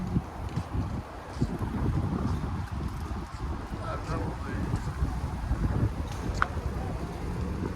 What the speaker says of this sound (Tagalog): ganda ng hangin